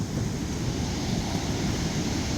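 Steady roar of big ocean waves in Bolinao, Pangasinan, with constant low rumble and wind, no voices, continuous throughout.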